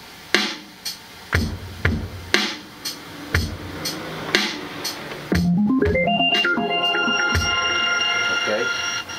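Korg Kaossilator KO1 loop at 60 beats per minute: evenly spaced percussive hits around one per second, then a rising stepped arpeggio of bright synth tones sustaining to the end, close and steady with no talk.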